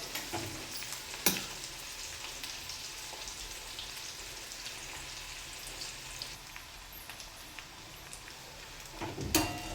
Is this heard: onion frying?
yes